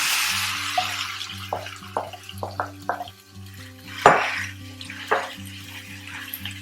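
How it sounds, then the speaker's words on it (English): Pork goes into a pot of cooked masala for Coorg-style pandi curry, with a run of short clattering knocks, scrapes and stirring against the pot and a soft sizzle beneath. "I'm going to add in my pork."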